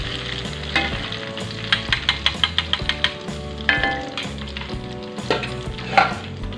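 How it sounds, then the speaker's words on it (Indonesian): Pieces of chicken fry in hot oil in a pan, a steady bubbling sizzle broken by a series of sharp knocks and clinks of a utensil against the pan. "Sekarang kita goreng lagi semua ayamnya sampai selesai ya"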